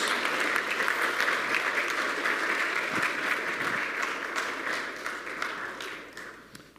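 Church congregation applauding on Easter Sunday as people come forward to be baptized, a dense roomful of clapping that holds steady and then gradually tapers off toward the end.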